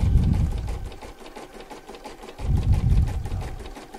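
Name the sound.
embroidery machine stitching satin stitch border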